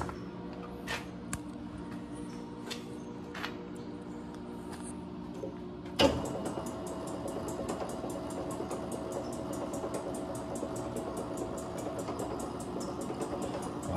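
A motorized office desk rising on its electric lift, a steady mechanical hum with rapid ticking pulses that kicks in abruptly midway after quieter room noise and continues evenly to the end.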